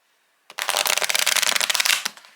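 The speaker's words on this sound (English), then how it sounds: "sideways shuffle" A tarot card deck riffled in a sideways shuffle, one dense burst of rapid fluttering card snaps lasting about two seconds, close and loud, ending with a soft tap, with no talk.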